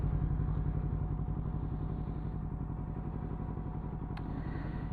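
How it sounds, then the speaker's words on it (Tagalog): A Yamaha XSR900 fitted with a Woolich Racing kit idles close by with a steady, rhythmic low thrum, its cooling fan whirring continuously underneath, and a brief faint click near the end. "Hintayin ko lang mag cool down yung fan, mag stop yung fan, tapos off ko na yung motor."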